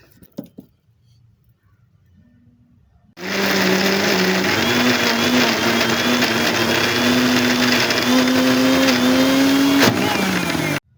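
A mixer grinder runs at full speed, blending garlic, fennel, curry leaves and coconut into a paste for mutton kola kulambu. It starts after a few seconds of near silence, then roars loud and steady with a rising whine before stopping abruptly.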